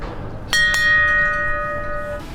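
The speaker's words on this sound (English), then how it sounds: "they have a bell that they ring." A bell rung as a crew boards their spacecraft, a naval-style boarding tradition: two quick clear strikes close together, then a long ringing tone that slowly fades with no talk.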